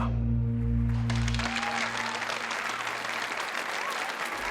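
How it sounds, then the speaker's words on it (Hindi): Thunderous applause from an audience at a stage press event, dense continuous clapping that fills the whole stretch after a low hum fades out at the start, with a faint voice beneath. "धमाकेदार तालियों के बीच"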